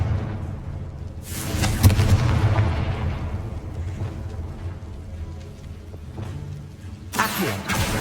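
Confringo blasting spell in a Hogwarts video game: two sharp, loud explosive bursts several seconds apart, each trailing off into a rumbling, rain-like crackle over low background ambience.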